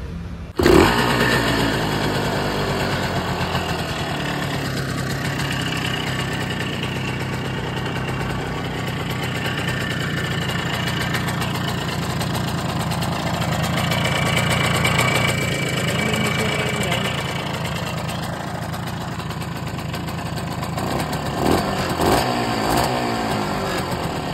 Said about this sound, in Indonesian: langsung saya hidupkan motornya